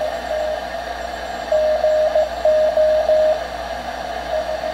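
A steady mid-pitched tone from a Vectronics 1140K ham radio receiver kit during alignment, pulsing on and off in short beeps over a constant background hiss.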